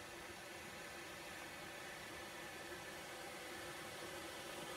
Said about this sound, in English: it is kind of like white noise with a lot of comb filtering happening up here